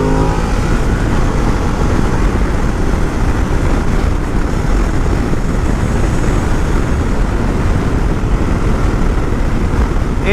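A 2022 Ducati Desert X motorcycle engine drones steadily and loudly while riding, mixed with heavy wind rush throughout with no clear breaks.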